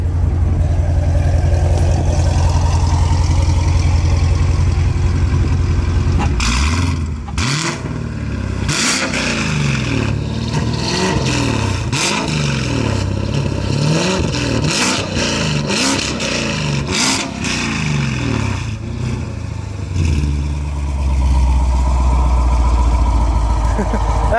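A Corvette C7 Stingray running E85 with an AFE intake and 1 7/8 inch off-road headers idles with a deep lumpy rumble, then is blipped repeatedly in sharp, loud revs capped at 4,000 rpm before settling back to idle.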